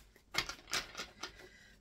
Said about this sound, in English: Make sure I shuffle well.